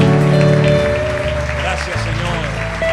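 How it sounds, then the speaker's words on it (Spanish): A church congregation applauds loudly during a Spanish-language service, clapping mixed with sustained musical tones and voices throughout. "Fuerte ese aplauso a nuestro Dios."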